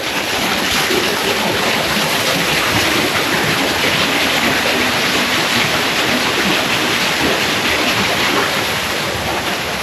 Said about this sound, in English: We've got the hand waterfall.